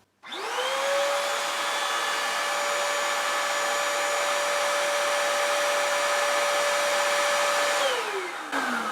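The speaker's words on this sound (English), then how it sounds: "let's just try it here with just the vacuum on" A Dirt Devil Power Express Lite SD22020 stick vacuum motor, beater brush off, spins up, runs with a steady, loud high-pitched whine for several seconds, then winds down and stops.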